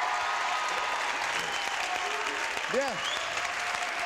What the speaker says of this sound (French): applaudissements pour Sophie Favier, mesdames, messieurs